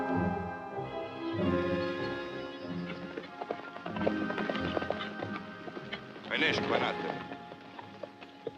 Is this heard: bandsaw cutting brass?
no